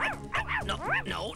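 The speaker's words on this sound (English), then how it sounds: "It's Timmykins, the mayor's dog, dear." A dog, a mayor's pet in a children's cartoon kitchen, yips and whimpers in several short pitched bursts, close and fairly loud, with continuous voice-like tonal sound running underneath.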